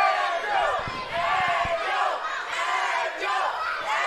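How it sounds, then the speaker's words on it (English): A boxing crowd at a live fight chants and yells a fighter's name, loud rhythmic massed voices rising and falling in waves that fill the arena. "As the crowd yells Angel"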